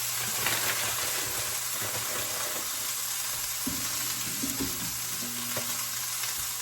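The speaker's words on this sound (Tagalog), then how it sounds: "lutuin ko po muna itong ground beef bago ko igisa sa bawang saka sibuyas" Ground beef frying in a pan on the stove for a beef lasagna, a steady sizzling hiss with a low hum underneath and a few scraping stirs, close and moderately loud with no talking.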